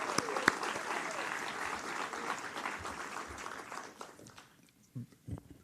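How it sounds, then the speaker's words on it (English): An awards ceremony audience applauds loudly and steadily, the clapping thinning out and fading near the end, with a few scattered claps remaining. "Let's give Marissa and Bree a big round of applause"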